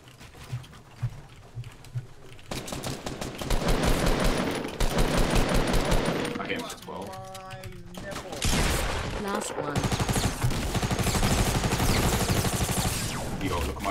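Rapid bursts of automatic gunfire in Fortnite: Battle Royale, loud dense volleys broken by short pauses and mechanical reload clicks, close and continuous through most of the stretch.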